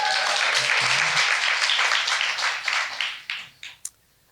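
Warm audience applause at an evening literary conversation event, dense steady clapping that thins out and ends in a few last scattered claps.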